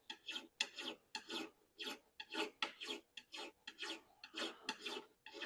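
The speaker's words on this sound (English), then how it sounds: "Then I can file." A rasp file scrapes a wooden workpiece in repeated rhythmic strokes, about fourteen short bursts with brief gaps between, close and fairly quiet, with no voices.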